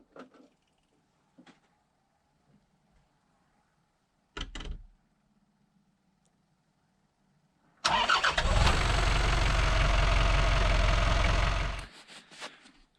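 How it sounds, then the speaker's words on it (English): A diesel engine in a Ford Bronco II donor car cold starting: a few faint clicks and a brief thump, then the engine cranks and catches into a loud, steady, rough idle for about four seconds before shutting off. "Here's your cold start."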